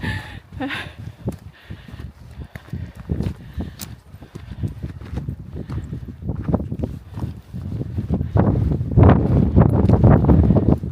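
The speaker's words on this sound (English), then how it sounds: "Oh, it's windy." Strong wind buffets the microphone in rumbling gusts on a hike in Snowdonia, growing louder and rougher toward the end, with faint rustling in the background.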